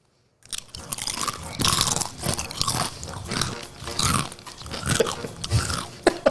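Several people crunching thick Maebo One-Ton potato chips together, loud close overlapping bites and chewing in a dense, irregular rhythm, no talking.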